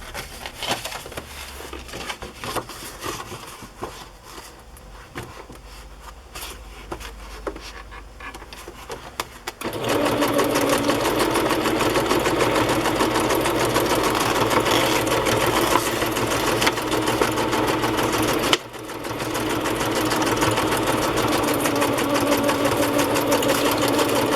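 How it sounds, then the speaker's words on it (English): A sewing machine stitches a burlap and lace napkin onto a journal cover, a quiet start giving way to a loud, steady mechanical whir that runs continuously with one brief pause. "I'm going to start by sewing this on"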